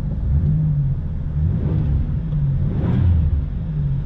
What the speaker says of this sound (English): Give this thing a couple of revs.